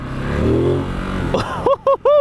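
Engine of a 2023 Ducati Monster SP motorcycle accelerating on the road, a rising rumble that builds, then sharp, loud revs climbing in quick stepped bursts near the end.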